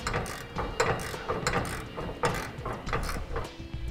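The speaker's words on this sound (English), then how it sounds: "Now with the nut in place, we can tighten it down." Ratchet wrench tightening a flange nut onto a carriage bolt while installing a fifth-wheel trailer hitch in a 2007 Ford F-250 Super Duty, rapid close clicking in short repeated bursts.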